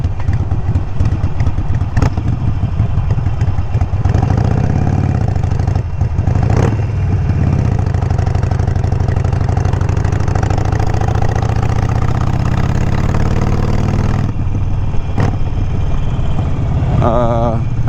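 A Harley Sportster with Vance & Hines Mini Grenades exhaust rumbles and clatters close by, holding a steady loping idle broken by blips and brief revs. A person talks over the engine.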